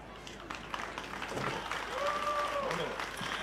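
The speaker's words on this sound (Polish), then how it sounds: "a Państwo w tym momencie będziecie mogli poćwiczyć brawa" Scattered audience clapping at an outdoor family festival builds from sparse to fuller, with a voice briefly audible and a short whistle-like tone midway; moderately distant.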